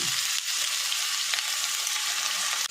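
Onion paste hitting onions already frying in a pan for mutton kosha, a loud, steady hiss of oil that holds evenly across the whole stretch with no voices.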